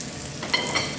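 Shrimps stir-fry in a hot wok over intense heat for Chinese cooking, giving a steady close sizzle with a couple of brief louder spits of frying.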